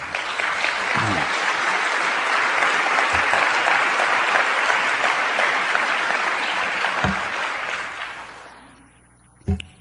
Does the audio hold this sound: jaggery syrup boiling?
no